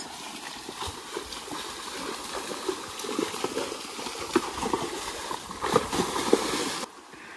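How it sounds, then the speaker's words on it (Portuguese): A river runs near the bank on a cattle farm, giving a steady broadband rush with irregular splashes and soft knocks throughout, and it fades abruptly at the end. "Olha o barulhinho da água."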